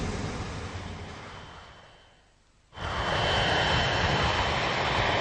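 A severely damaged, heavy airliner, United Airlines Flight 811, flies on only two engines while losing altitude. Its roar fades away, then returns abruptly as a loud, steady, broadband engine rush.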